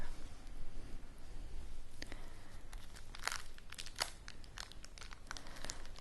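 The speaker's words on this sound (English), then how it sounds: "This is the gum. It crinkles really nice" Gum wrapper crinkled close up in a quiet setting, with a run of crisp, scattered crackles and crunches that cluster into sharper bursts near the middle, no talking.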